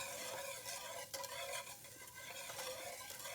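Garlic cooks in butter in a pan with a soft continuous sizzle, while a utensil stirs and scrapes quietly at close range, with no talking.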